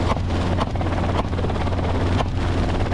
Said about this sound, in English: the blades of a Robinson R-44 helicopter begin to roar overhead